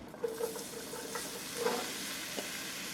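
Butter melts into a hot pan where beef was just seared, giving a soft, steady sizzle with a few scraping clicks of a utensil, fairly quiet and with no voices.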